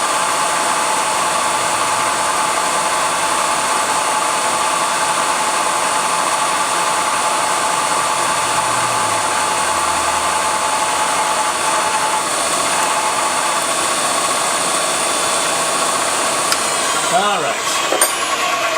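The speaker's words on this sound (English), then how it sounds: "We're only drilling on one side there" A drill bores a hole in a part for a Royal Enfield Bullet 350 motorcycle, a loud, steady, continuous whine held close up for the whole stretch, with a brief clatter near the end.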